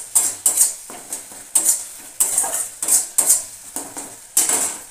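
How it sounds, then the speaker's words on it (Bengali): A metal spoon scrapes and clatters against a pan while spices are stirred and fried in a home kitchen, producing a series of sharp irregular clinks and scrapes close by, with a faint sizzle underneath and no talking. "এতে মশলা দিয়ে একটু কষে নেবো, কষে নিয়ে তারপরে আলুটা দিয়ে দেবো"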